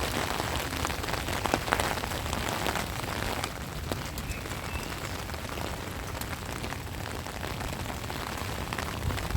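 Steady rain falling on a street in Strasbourg, a dense, even hiss of drops on the surface that holds close and loud from start to finish with no voices.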